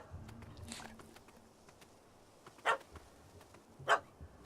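A dog barks in The Witcher 3 at night, a few sharp yips and barks, then two louder barks close by set against quiet ambient background.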